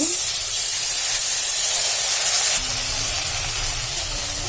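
Onions and masala frying in a pan for a Sunday fish curry, giving a loud, steady hiss that dips slightly partway through and carries on without a break.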